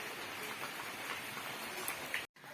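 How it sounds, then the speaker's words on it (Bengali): Steady rain falls outside a house, a soft continuous hiss of drops with no distinct individual impacts, faint and even throughout before a brief cut near the end. "মনে হচ্ছে আজকেও বৃষ্টি কমবে না"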